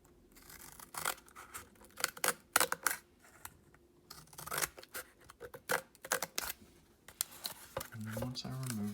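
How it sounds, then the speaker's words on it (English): Scissors snip through a sheet of cardboard while a paper lantern panel is being cut out: a rapid series of close, crisp crunching cuts and rustles, ending with a low rattling shuffle. "And cut with my scissors."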